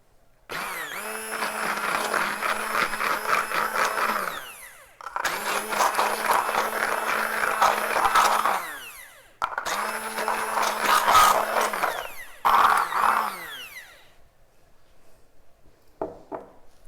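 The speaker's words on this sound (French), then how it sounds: "Et on va mélanger." Electric mixer whipping buttercream with fat-soluble food colouring, a high whirring motor running in three long bursts and a shorter fourth, separated by brief pauses, then silence with a faint tap at the end.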